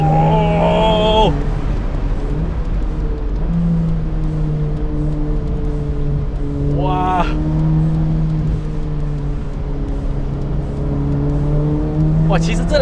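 A Ferrari F8 Spider V8 drives with the top down on a mountain road, its engine droning steadily with a few rising revs as it shifts, under wind noise and an excited voice.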